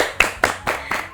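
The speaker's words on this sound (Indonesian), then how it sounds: "Tepuk tangan dulu semuanya." Sparse hand claps at a student tourism project event, four distinct claps in a slow even rhythm, fairly close, with no talk over them.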